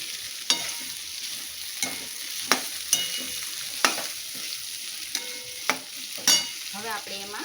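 Spiny gourd pieces with peanuts stirred in a pan, a spoon scraping and clacking in irregular knocks over a soft steady sizzle of oil, close and moderately quiet with no talking.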